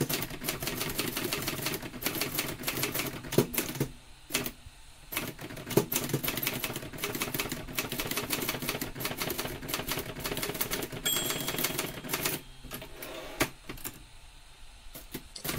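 Fast typing on a typewriter while a fully block-style letter is typed: a dense, continuous run of mechanical key strikes at a quick, steady rhythm, with occasional brief pauses, close and moderately loud, with no voices.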